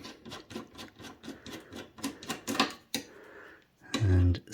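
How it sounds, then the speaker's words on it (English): Torx screws being backed out of an iMac, with a series of small metallic clicks and scrapes of a driver at close range, ending in a louder rustle or thump. "we have our torque head screws, so we'll remove them"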